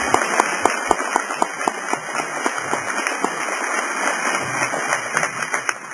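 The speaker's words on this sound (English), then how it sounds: "we owe him a clap" Audience applause following a thank-you at a community wildfire fuel-reduction presentation: a steady wash of many hands clapping at moderate distance, sustained and dense throughout, with individual sharp claps standing out.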